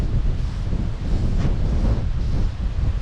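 Steady wind buffets the microphone with a constant low roar, loud and unbroken, with no voices.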